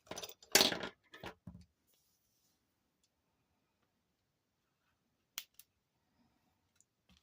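Wire for a moon phase bracelet is snipped in half, a few sharp close clicks and metallic snips in a quick cluster, then near silence with one or two faint later ticks.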